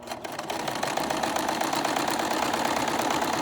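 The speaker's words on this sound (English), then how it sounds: "I'm going to run my fabric through the machine" A sewing machine stitching fabric, its motor spinning up and settling into a fast, steady mechanical whir with rapid needle chatter, close and continuous, with no talking.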